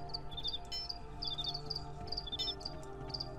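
Crickets chirp in steady repeating trills inside a video game, high and clear over a quiet ambient background with no talking.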